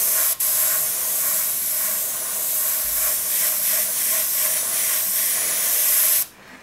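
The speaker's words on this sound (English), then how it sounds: "So now we're just going to spray the red." Steady airbrush hiss spraying red Trident paint, reduced with a drop or two of reducer, continuously for several seconds, close and fairly loud, cutting off abruptly near the end.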